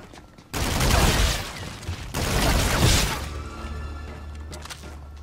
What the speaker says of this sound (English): Probably an energy weapon.